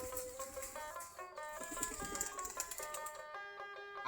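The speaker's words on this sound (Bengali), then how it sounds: "সবগুলাই দেশি জাতের কবুতর, দেশি গিরিবাজ কবুতর।" Native Giribaz pigeons coo while feeding, soft repeated throaty coos from several birds close by, with light rustling and no talk.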